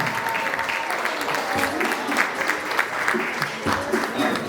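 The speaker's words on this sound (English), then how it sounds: "A round of applause for him" An audience at a student nurses' financial independence seminar applauds a sales head speaker, with dense, sustained clapping filling the whole stretch at an even, fairly loud level.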